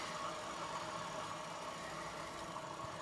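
A 125cc scooter engine with a belt-driven transmission drones steadily, close up and at a constant, moderate level with no clear rise or fall.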